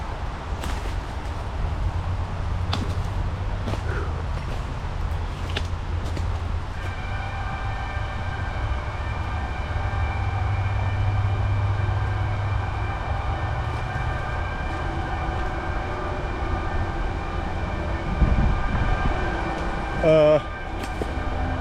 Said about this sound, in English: Must have been some kind of rain alarm